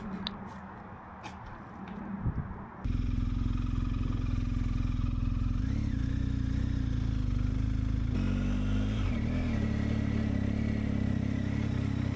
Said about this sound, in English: Alright, so here we are on the KTM 1290 Adventure S.